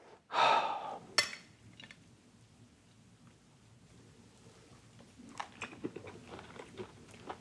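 Charred Brussels sprouts with bacon and maple are bitten with one sharp, loud crunch near the start, followed by quiet close-up chewing, breathing and a few small crunches later on.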